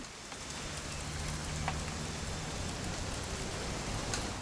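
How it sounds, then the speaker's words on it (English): Steady rain in the video game What Remains of Edith Finch hisses continuously, an even wash of falling drops with no voices, moderately loud and unbroken. "It's gonna rain the whole weekend, isn't it?"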